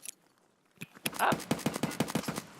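Rapid full-auto burst of gunfire in the video game Escape From Tarkov, a quick string of sharp, evenly spaced shots following a brief lead-in, loud and close.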